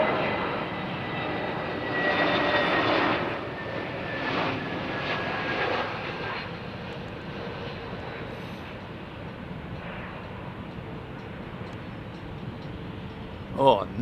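A Trans Aero Portugal airliner lands at Heathrow, a moderate jet rumble and whine that rises early and then fades to a distant steady hum, with a person speaking over it.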